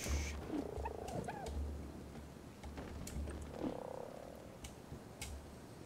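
A frog croaks in ARK: Survival Evolved, with several short, throaty croaks repeating at uneven intervals over a low, steady game ambience.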